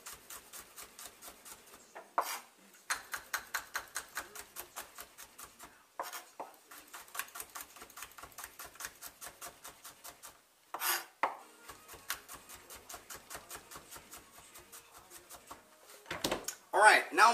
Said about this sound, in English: Just slice this garlic up